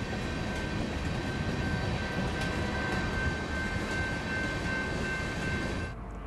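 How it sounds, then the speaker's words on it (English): A train rumbles steadily past along a street-running line through town, loud and continuous with a faint horn tone, before fading slightly at the end. "the train down Mason Street is here to stay"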